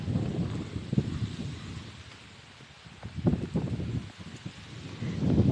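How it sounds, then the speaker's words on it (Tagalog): Steady wind gusting outdoors with a soft wash of light rain, rising and falling in strength with no voices. "May gamay-gamay nga ulan, ug dagan-dagan nga hangin."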